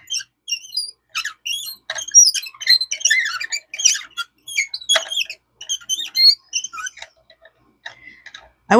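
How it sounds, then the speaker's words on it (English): A plastic die cutting machine squeaks repeatedly as it is pressed and cranked, giving a busy run of high, chirping squeals with short pauses and a louder squeal at the end. "Oh, that's squeaky."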